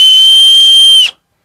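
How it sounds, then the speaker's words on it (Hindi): A small plastic toy whistle gives one loud, shrill, steady blast held for about a second, then stops sharply, close up and alone. "देखिए इस टाइप्स का सीटी आ जाता है।"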